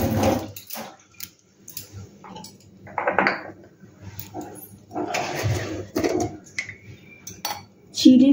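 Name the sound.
washing hands with running water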